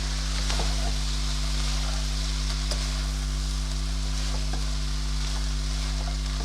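Shredded cabbage frying in a pan for chicken chow mein makes a steady, soft sizzle with a few faint pops, close by over a constant low electrical hum, with no voices.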